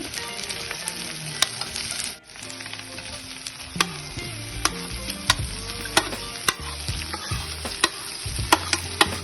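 Diced onion and capsicum stir-fried in leftover ghee oil with ground ginger and garlic for chicken chilli: a steady close sizzle broken by frequent sharp spatula scrapes and knocks on the pan, no voices.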